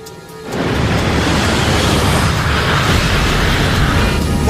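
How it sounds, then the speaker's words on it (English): Sudden loud roaring burst on an Air France Concorde at takeoff, a sharp onset swelling into sustained broadband rumbling that holds steady and close for several seconds without speech. "That sounded like some kind of explosion."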